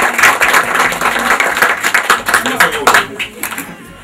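A crowd at a music label's press conference applauds the twins with a sustained run of fairly close hand clapping, voices mixed in throughout.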